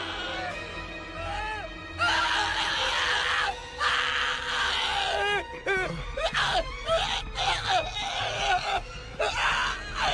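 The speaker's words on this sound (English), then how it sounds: "What was with that scream?" Anime character screaming in an English-dubbed scene, a long loud strained wail that breaks into gasps and groaning cries, continuing over several seconds with short pauses between outbursts.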